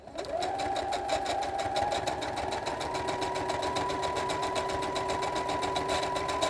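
A sewing machine set up with a twin needle for quilting runs at a fast, steady stitching pace, a loud close mechanical whir with rapid even clicking and no talk over it.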